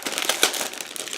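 A plastic bag holding clear parts from an ICM 1/48 Do 17Z-2 model kit crinkles close up in a quick series of crackles and rustles, with one sharper crunch.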